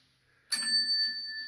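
A single bright bell ding strikes suddenly and rings on with a clear, sustained metallic tone that slowly fades, heard alone in quiet.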